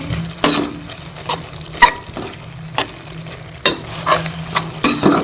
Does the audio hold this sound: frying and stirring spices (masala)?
yes